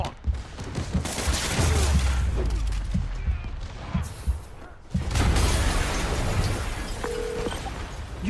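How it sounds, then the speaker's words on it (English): Explosion in Marvel's Spider-Man Remastered, loud booming blasts with shattering debris and gunfire-like crackle, surging in two big bursts over dense roaring game noise. "an explosion just... I saw it."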